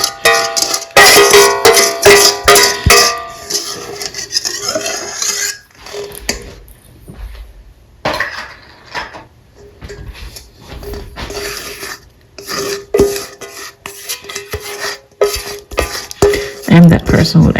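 A spatula scrapes the last of the cake batter from a mixing bowl, loud repeated scraping and clinking strokes in uneven bursts with short pauses between.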